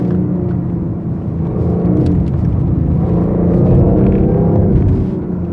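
A BMW i8 hybrid sports car's engine rumbles steadily up close, loud and low, swelling slightly toward the end with no voices over it.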